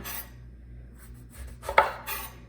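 A knife slices through the end of a rolled lemon on a cutting board, giving a single close, crisp cut with a light clack of blade on board amid soft kitchen handling noises.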